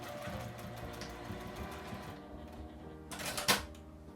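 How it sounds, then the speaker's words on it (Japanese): A sewing machine stitches along the top edge of a fabric placemat in a steady, close mechanical whir, with a brief louder burst near the end. "このように上端を縫いました。"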